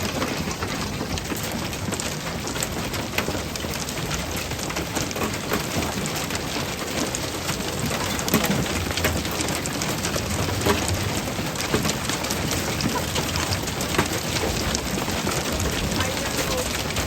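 Big hail pelting down during a hailstorm on a South Dakota rail trail, a dense, loud, unbroken clatter that holds steady throughout.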